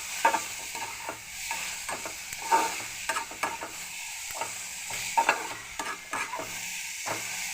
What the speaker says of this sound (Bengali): এবার একটু সুন্দর করে নেড়ে নেব সবগুলো একসঙ্গে।